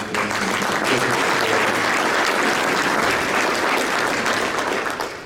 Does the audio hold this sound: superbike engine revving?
no